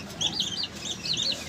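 A hen with chicks clucks and chirps in a cage, a fast stream of short, high, close calls with no talking.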